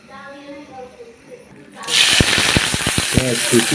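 Yardlong beans and potatoes hit hot oil in a pan, bursting into a loud, dense sizzle with sharp popping crackles that continues steadily after a quieter moment of talk.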